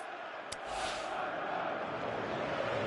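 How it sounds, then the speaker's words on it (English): Simulated stadium crowd from the football video game PES 2018, a broad steady roar of many voices that swells slightly after a brief sharp burst, continuous and fairly loud throughout. "you can feel and hear how the crowd are reacting to all of this"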